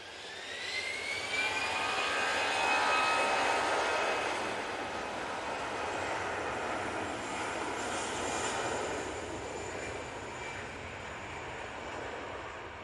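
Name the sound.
Brussels Airlines airliner landing at Manchester Airport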